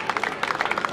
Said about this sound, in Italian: facciamo un applauso al nostro mister